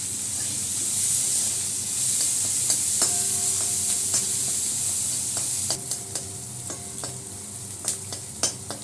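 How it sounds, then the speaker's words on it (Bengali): Onion and garlic fry in hot oil in a pan, a steady close sizzle with spoon scrapes and clinks from stirring. No one speaks. "আমার পেঁয়াজটা ভাজা হয়ে গেছে"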